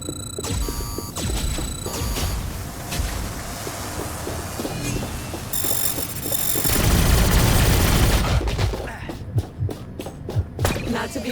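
Gunfire and booming impacts in the video game Revenge of the Savage Planet, a dense, continuous barrage of shots and thuds mixed with game sounds, loud and busy throughout, with a voice speaking over parts of it.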